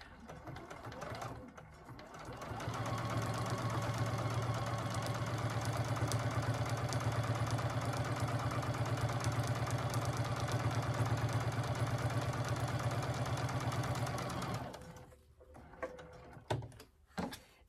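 A sewing machine set to a 2.6 stitch length runs through batik canvas in one steady, close whirring stretch of about twelve seconds, then stops, leaving a few soft clicks and handling noises.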